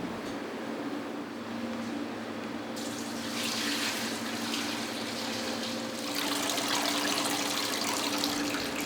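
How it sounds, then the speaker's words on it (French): Steady rushing liquid runs continuously as goat milk streams through a filter and splashes into a container, growing brighter and louder partway through. "je vais filtrer le lait"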